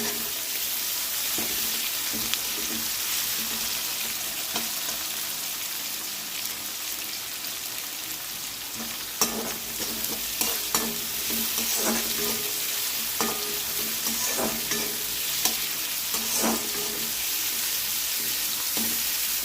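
Chopped vegetables and tomato sautéing in a pan for a mango fish curry, giving a steady, close sizzle with scattered crackles and occasional stirring scrapes throughout.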